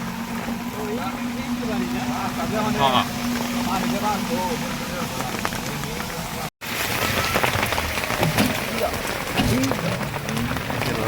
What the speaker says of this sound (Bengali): দেখা গেল বৃষ্টি থামতেছে না